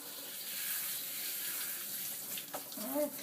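Tap water runs steadily while a cat is rinsed during grooming, a continuous splashing wash with a brief voice near the end.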